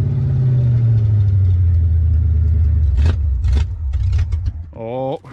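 A flooded F1 Chitty car engine with its exhaust cut off struggles in gear, a deep droning rumble that sags, then sputters and coughs in uneven bursts, with a voice briefly over it.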